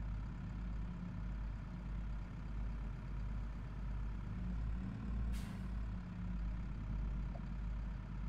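Farming Simulator 22 tractor pulling a small trailer: a steady low engine drone runs throughout, with a brief hiss like an air-brake release about midway.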